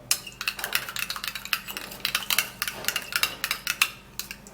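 Aloe vera lotion mixture being stirred, a rapid, even series of clinking scrapes from a utensil against a container, close and fairly crisp, with no talking.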